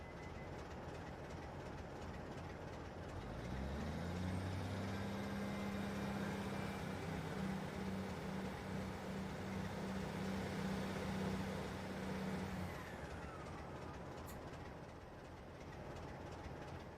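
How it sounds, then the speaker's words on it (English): HS2 train in Train Simulator 2019 with a steady turbo whine over a continuous rolling rumble that holds for several seconds, then eases off, with no voices. "I can hear the turbos of a HS2."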